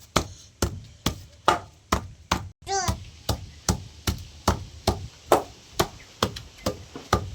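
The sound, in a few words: grinding and crushing tulsi (holy basil) leaves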